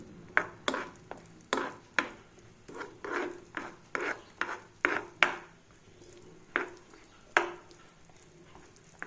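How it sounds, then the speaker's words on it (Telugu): A butterscotch ice cream mixture stirred in a pan over a low flame, giving a run of repeated scraping, rasping strokes at a steady uneven rhythm, close and fairly loud with no talking. "కొంచెం ఇలా బాగా కలిసేలాగా తిప్పుకోండి"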